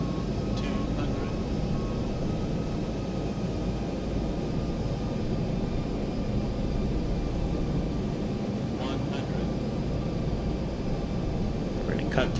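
Boeing 737-800 jet engines in X-Plane 11 during a landing approach, a steady broadband roar holding at constant level throughout, with brief faint clicks and a voice talking over it.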